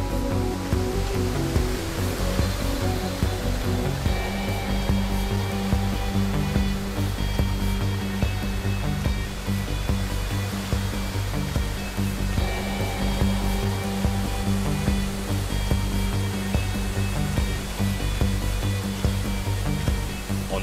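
Large waterfall in a narrow gorge roaring as a steady, loud, unbroken rush of water close by, with no voices over it.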